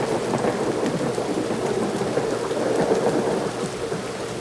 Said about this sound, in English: the heavy rain falling over the roof like Niagara Falls